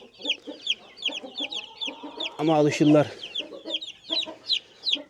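German Australorp chicks in a new, roomy enclosure cheep busily in a dense chorus of high, rapid peeps, with a voice briefly speaking close by in the middle.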